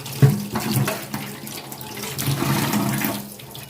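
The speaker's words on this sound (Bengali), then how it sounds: "এই যে এখন ধুয়ে নিলাম মাছটা।" A hilsa fish is rinsed under a running kitchen tap, steady splashing water with small surges and knocks as the fish is handled, close and alone.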